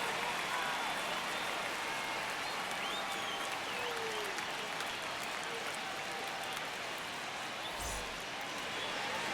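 A stadium crowd in the baseball video game MLB The Show 25 cheers and applauds as a steady, unbroken wash of noise at moderate volume with no talking.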